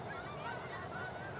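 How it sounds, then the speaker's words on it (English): Birds honking outdoors, a scattered chorus of goose-like calls heard at a distance over steady background noise, without any talking. "There go the birds."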